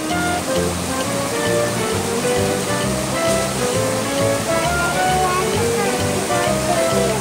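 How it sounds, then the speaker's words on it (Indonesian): A small river stream flows at a park in Puncak where rafting takes place, a loud, steady rushing wash of water close by, constant throughout with no clear speech. "Ini namanya sungai kecil."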